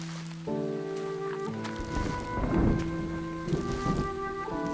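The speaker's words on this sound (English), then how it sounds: "Thunder is the best sound ever." A deep rumble of thunder swells in the middle, layered over steady sustained tones, with rain-like hiss throughout.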